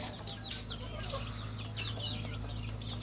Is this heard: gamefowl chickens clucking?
yes